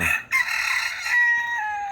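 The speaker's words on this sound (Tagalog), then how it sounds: "Puro bantam pala ang manok dito." A bantam rooster crows up close, a short cut-off call followed by a longer, strained crow, in a park.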